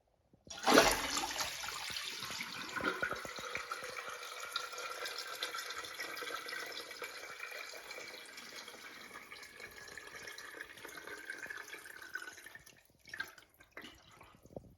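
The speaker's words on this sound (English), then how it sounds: "for this first flush, I'm just going to keep the handle held down" A toilet flushing with its handle held down, water rushing loudly and steadily for about twelve seconds before tapering into trickling and refill sounds.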